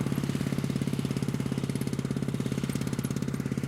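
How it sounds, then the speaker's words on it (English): Air compressor-driven post driver pounding a steel fence post into the ground, a rapid steady hammering that runs without pause, loud and close, over the drone of an engine. "The noise you can hear is the air compressor driver that actually drives the steel post into the ground."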